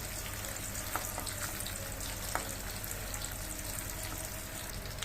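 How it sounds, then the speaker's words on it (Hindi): Paneer fries in a pan over a low flame with a steady, dense sizzle that continues throughout, broken by a couple of faint scrapes, close and unbroken with no speech. "हमें हमेशा ध्यान रखना है कि हमारा पनीर चिपके ना और हल्की फ्लेम पे ही तले"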